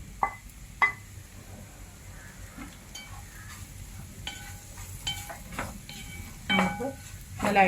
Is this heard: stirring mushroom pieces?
yes